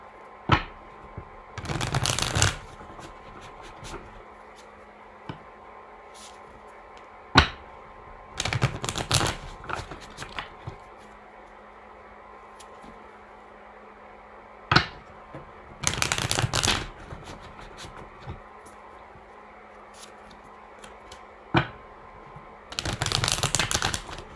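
Several bursts of tarot card shuffling, each a quick riffling flurry lasting a second or two, separated by a quiet room with occasional small taps.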